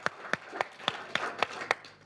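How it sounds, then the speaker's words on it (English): Applause for an audience member at a talk comes across as about seven sharp, evenly spaced claps in a steady beat, fairly faint and slightly distant, with no talking. "Let's give Matt a round of applause."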